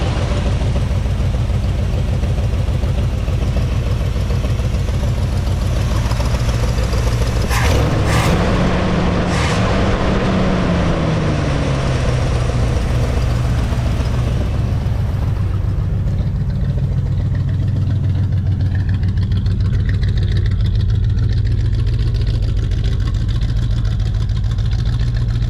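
A Ford 460 V8 fitted with a carburetor runs roughly, a loud close rumbling idle that rises briefly in a rev partway through and then settles back to a steady, uneven running.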